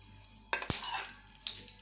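Slit green chillies drop into hot oil in a kitchen pan, giving a brief soft sizzle with a few clinking utensil and pan knocks, quiet and close with no talking.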